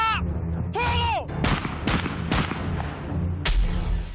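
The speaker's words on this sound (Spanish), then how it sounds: "No fue una descarga, fueron disparos, 1 a 1 o 2 a 2, ¿no?" Gunshots in an execution scene ring out as separate sharp cracks and booms, spaced irregularly one after another with echoing tails, over a low rumbling background.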